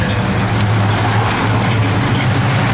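A 1971 Dodge Demon engine idling, a steady low rumble held close and loud for a few seconds with no break.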